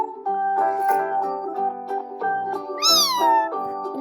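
A cat meows loudly and repeatedly up close, with drawn-out tonal cries and one higher, rising wail partway through, and no talking over it.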